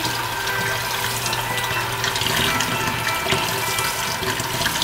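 A kitchen tap runs water into an apartment sink, a steady, close, loud splashing rush that continues unbroken with no talk over it.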